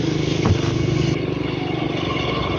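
A motorcycle ride heard from the rider's position on a cold morning, with a steady, loud engine drone and road rumble running continuously throughout, mixed with wind buffeting and faint rattles.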